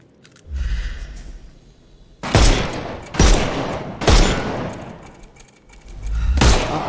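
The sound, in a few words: gunfire in video game Sherlock Holmes Chapter One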